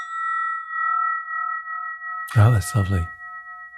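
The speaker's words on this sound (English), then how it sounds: "This bell that I'm holding now we call this a spinning bell." A brass spinning bell rings with sustained, pure overlapping tones that swell and fade in a slow pulsing rhythm, then someone speaks briefly over the lingering ring.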